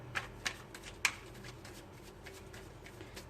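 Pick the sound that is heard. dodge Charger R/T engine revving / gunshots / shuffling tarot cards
shuffling tarot cards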